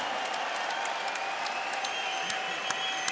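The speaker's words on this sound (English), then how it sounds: "So everybody, please, a round of applause to him." A crowd at a Bellator MMA event applauds a fighter, a continuous spread of clapping with a few sharper claps standing out, and a faint tonal hum running beneath the crowd noise.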